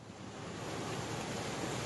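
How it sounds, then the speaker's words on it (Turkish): Large waves churned up by a docking Bursa–Istanbul car ferry at the Yenikapı pier, a faint, steady wash of water and wind with no distinct breaks. "Bursa-İstanbul arasında otomobil taşıyan Osman Gazi bir feribotu yeni kapıya yanaşırken büyük dalgalar oluşturdu."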